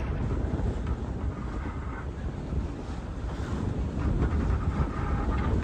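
Steady, loud rush of wind buffets a sailboat cruising under a reefed mainsail and full headsail in about 20 knots of wind off Eleuthera, with a constant broadband roar and faint water wash beneath it and no talking.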